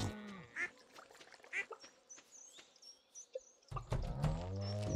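Ducks in the farming video game Stardew Valley give a series of short quacks and chirpy calls with irregular spacing. The calls are moderately loud and sit over a quiet background, with a few other game sounds and a brief low tone near the end.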